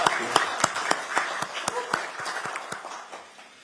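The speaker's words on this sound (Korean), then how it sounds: "큰 박수로 격려해 주시죠." A small group at a Korean political party meeting claps, distinct sharp hand claps landing in a loose, uneven rhythm. The clapping grows sparser and quieter, and a faint voice murmurs underneath.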